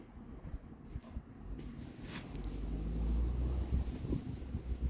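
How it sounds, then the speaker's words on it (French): Outdoors while setting up a Gamo Big Cat Turbo air rifle, a gust of wind buffets the microphone, building into a low rumbling roar over several seconds, faint at first and then louder. "Petite rafale de vent de merde."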